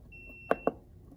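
A sunrise alarm clock in alarm mode gives two quick, short electronic beeps in close succession, fairly faint, with a quiet background and no talk.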